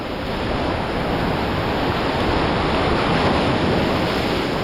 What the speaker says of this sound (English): We'll wait for this wave.